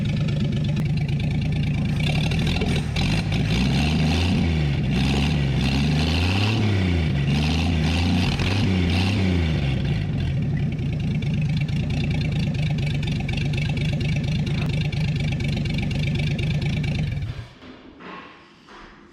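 A 1959 Chevrolet Bel Air engine idles steadily and loudly with a smooth, rumbling exhaust note, holding a constant low throb before cutting off abruptly near the end.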